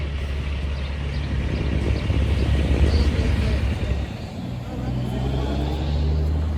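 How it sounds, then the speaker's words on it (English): Passing road traffic heard on an early morning walk in Hudson, Massachusetts, with trucks among it: a broad, loud rumble that swells and eases as vehicles go by, steady for the whole stretch. "Traffic and stuff."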